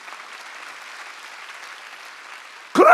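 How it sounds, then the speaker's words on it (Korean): Applause breaks out from a church congregation at a Sunday worship service, a sudden loud burst of many hands clapping that rises sharply after a stretch of quieter room noise. "박수야."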